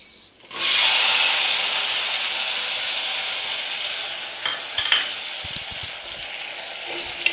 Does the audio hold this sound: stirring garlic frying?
yes